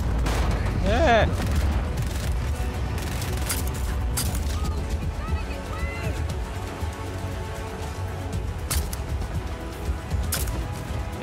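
Dense, rumbling gunfire and explosions from the Just Cause video game, a continuous loud barrage of shots and booms with occasional crashes, a voice speaking briefly over it.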